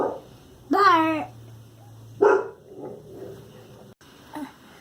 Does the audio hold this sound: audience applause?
no